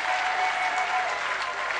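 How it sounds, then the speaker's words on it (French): A church convention congregation claps in a steady, even wash of applause, moderately loud and continuous with no voices standing out. "vous pouvez applaudir"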